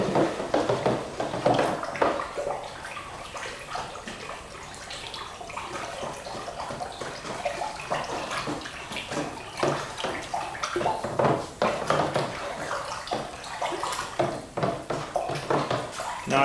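Pottery glaze is stirred by hand in a bucket in a ceramics workshop, giving continuous wet sloshing and swirling with scattered knocks and scrapes, fairly close and moderately quiet.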